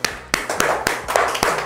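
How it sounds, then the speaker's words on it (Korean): A few people clap in short irregular bursts beside a torch-seared raw mackerel dish at a fish market meal, the sharp hand slaps close and fairly loud with light background murmur. "야, 너희도 박수 한번 쳐도."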